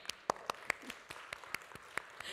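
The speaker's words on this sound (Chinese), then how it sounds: "我们跟爸爸拍拍手好" A church congregation claps for the fathers at an evening service, sparse, separate claps at an uneven rhythm, moderately close but fairly quiet.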